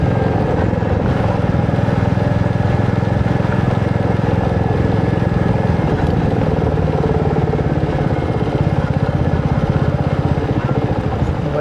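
Royal Enfield Meteor 350 ridden on rural Andhra roads near the coast, a loud, steady engine drone with constant wind rush throughout, close and unbroken for the whole stretch.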